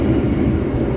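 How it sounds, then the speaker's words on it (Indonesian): Riding the Pandalungan passenger train in a first-generation stainless steel executive car: a dense, continuous low rumble and rolling rail noise inside the carriage, steady and loud with no talking. "Jadi beberapa jam hari ini sudah naik kereta Pandalungan"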